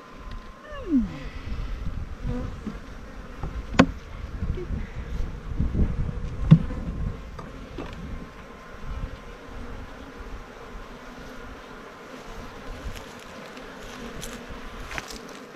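Honeybees hum in a constant close drone during a beehive inspection, with occasional sharp clicks and knocks from handling the hive frames.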